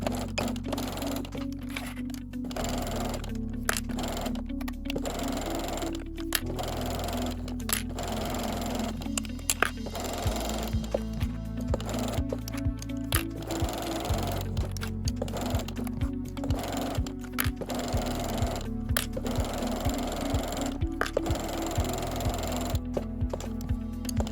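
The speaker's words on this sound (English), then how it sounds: "Sew around the main case body using a 1/4 inch seam allowance" A sewing machine stitches a 1/4 inch seam around a fabric AirPods case in repeated short bursts of rapid mechanical clatter, separated by brief pauses, close and clear.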